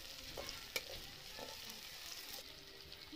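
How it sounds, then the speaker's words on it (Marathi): Green chilies sizzle with onion in a hot pan, a soft, even frying hiss with a small clink and light stirring sounds, fairly quiet. "मिरची टाकून घेतली आता, आपली हिरवी मिरची टाकून घेतली त्याच्यात"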